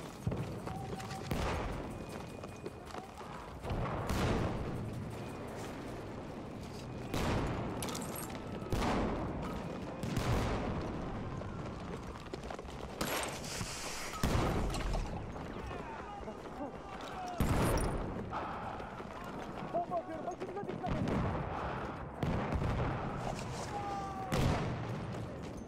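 Repeated booms and blasts of an artillery barrage in the video game Close Rush, irregular impacts rolling through a noisy battlefield mix across the whole stretch.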